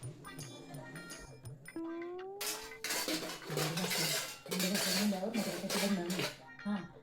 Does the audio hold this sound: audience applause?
no